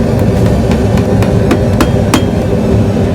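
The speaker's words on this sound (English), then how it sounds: "So use the edge of your anvil and just hit it over." Forged steel hook hammered over the edge of an anvil: a rapid, loud series of sharp metallic strikes at a quick, slightly uneven rhythm, close up and alone without speech.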